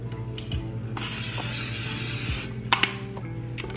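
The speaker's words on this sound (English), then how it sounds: "And I'm just gonna spray it with the butter spray." Butter spray hisses from a can into a casserole dish in one steady burst of about a second and a half, followed by a few light clicks and taps of handling nearby.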